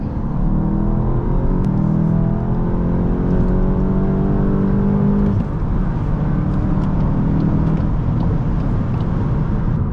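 A 2024 VW Golf GTI 380 SE accelerates hard from a launch, engine note climbing through rising revs before a brief shift and a fresh pull, loud and close from inside the car.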